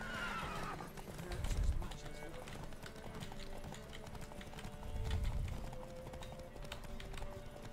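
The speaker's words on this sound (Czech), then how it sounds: "Co dělá ten kůň?" A horse in the video game The Witcher 3: Wild Hunt clip-clops steadily at close range and whinnies, with heavier hoof thuds in a couple of spots, while a person talks over it.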